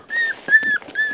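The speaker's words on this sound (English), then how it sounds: "So now we're looking at some baby Australian Shepherd dogs." Australian Shepherd puppies whimper up close, high thin whines and squeaks in three short bursts, loud and clear with no voices over them.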